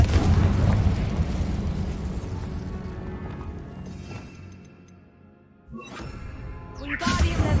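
A loud, rumbling blast opens the Confringo explosion spell in Hogwarts Legacy, then decays over several seconds before sharper bursts and crackles come later.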